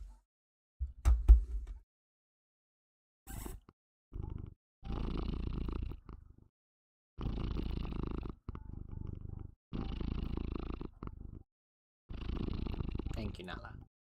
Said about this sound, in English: she started purring loud again